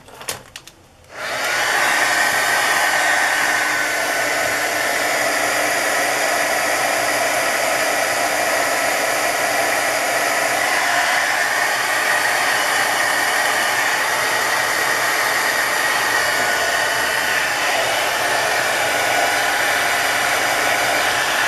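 A hair dryer blows on a freshly colored journal page, switching on after a brief click and then roaring steadily and loudly, close by, for about twenty seconds.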